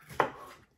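A single knife chop through bell pepper lands on a cutting board, a short sharp crunch in a quiet kitchen, followed a moment later by a faint second contact.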